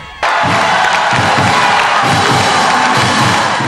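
Schoolmates lining a school entrance cheer for a Little League World Series player, a loud crowd of young voices bursting in after a quiet moment and sustaining a roaring, whooping cheer.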